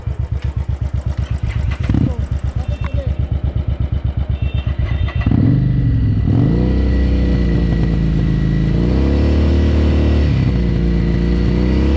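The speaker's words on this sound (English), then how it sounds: "This is Shashank trying to jumpstart his battery from Nilesh's bike." Motorcycle on a Pune to Konkan road trip cranking with a rapid rhythmic chug while jumpstarted from another bike's battery, then catching and settling into a loud rumbling idle with revs rising and falling.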